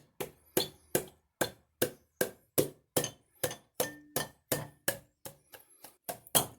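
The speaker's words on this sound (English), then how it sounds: "Not forcing, just barely lightly tapping." A Harley-Davidson cylinder is tapped lightly to work it loose: about seventeen sharp, close metallic taps in a steady rhythm, with nothing else heard.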